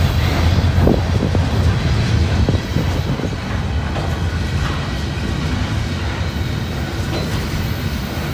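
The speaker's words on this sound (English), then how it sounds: "I think mixed manifests are probably my favorite trains because there's so much different stuff on there." Mixed manifest freight train rolling past on a cold day, a loud steady rumble with rhythmic wheel clicks and rail clatter, heaviest at the start and then continuing evenly close by.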